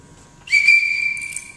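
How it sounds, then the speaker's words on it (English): One sharp, sustained whistle blast rings out loud and close on an archery range, lasting about a second over a quiet background. "Go ahead and associate that with the whistle blowing."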